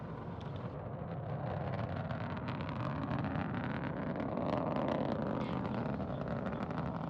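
Soyuz rocket launching the Progress 83 cargo ship from Baikonur Cosmodrome, a distant, steady roaring rumble that swells slightly and holds as a continuous broadband thunder, with no voices.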